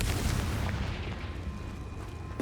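A Confringo fire spell blast goes off in Hogwarts Legacy inside a cave, a loud booming burst at the start that rumbles and fades over a couple of seconds, with no talk.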